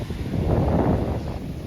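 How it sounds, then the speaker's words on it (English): Ocean waves surging beneath basalt rock columns along a rugged coast, a deep, steady roar that swells slightly in the middle, with wind buffeting close to the microphone. "Can you hear the roar of the waves coming underneath?"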